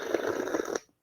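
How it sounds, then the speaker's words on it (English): A short, close slurping sound, a wet noisy sip lasting under a second, then quiet. "Here's a good slurping sound effect."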